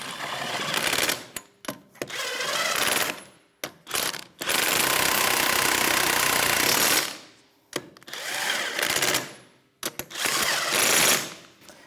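A power tool drives lug nuts with a 21mm socket on a Toyota RAV4, sounding in loud repeated bursts of varying length with short pauses between them and one long sustained run near the middle.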